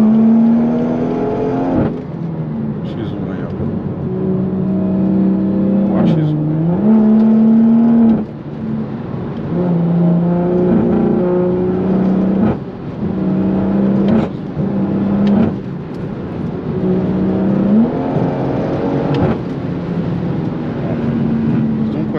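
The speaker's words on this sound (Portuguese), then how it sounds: "não, vou dar uma acelerada aqui, ó" A manual project car accelerates hard through its gears, its engine droning loud and close, with the pitch climbing and dropping at each shift over about twenty seconds.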